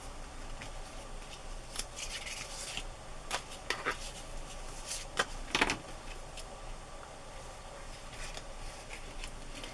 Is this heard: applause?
no